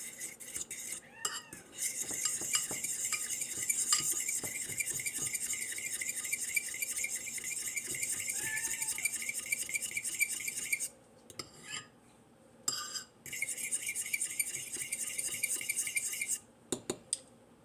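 A spoon stirs prawn cocktail salad with lemon juice in a bowl, giving a continuous rapid scraping and clinking of metal against the dish, broken by a few brief pauses, with no talk.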